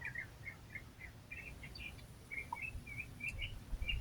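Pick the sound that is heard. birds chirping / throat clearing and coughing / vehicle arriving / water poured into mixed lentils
birds chirping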